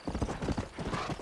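Hoofbeats of a Kentucky Saddler horse in Red Dead Redemption, a steady clip-clop rhythm of close, moderately loud hooves continuing throughout.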